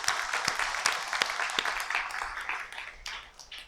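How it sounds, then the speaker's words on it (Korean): A church congregation applauds during a Korean worship service, giving a round of moderately loud, steady clapping that carries on without a break from start to finish. "하나님 앞에 다시 한번 영광의 박수 돌려드리겠습니다"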